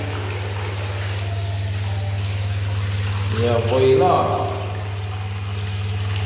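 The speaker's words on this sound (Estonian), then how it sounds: "paneme kohe piimakraani tööle" A milk tap at a milk bath is turned on, briefly pouring liquid for a second or two over a steady low hum, with people talking nearby.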